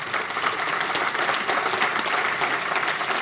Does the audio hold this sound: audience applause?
yes